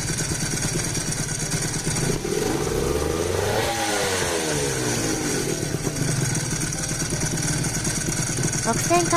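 A Honda NSR250R motorcycle with an ETHOS expansion chamber exhaust runs close by, its engine note sweeping sharply up and back down in a quick rev before settling into a steady, loud drone.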